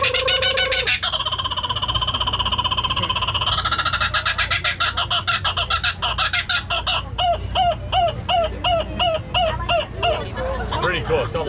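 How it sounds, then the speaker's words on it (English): A loud, close laughing kookaburra call at an outdoor family picnic, with rising cackles that build into rapid repeated hoots and chuckles, alone and without speech. "It's called Laughing Kookaburra from Australia."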